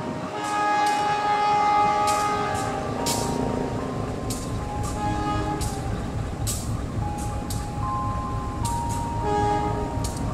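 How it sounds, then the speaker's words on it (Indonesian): The Serayu passenger train rolls into Cibatu station, Indonesia, on track 2, its wheels and engine rumbling loud and close, with long tonal horn or brake squeal notes and rattling carriages throughout. "Kereta api Serayu masuk jalur 2."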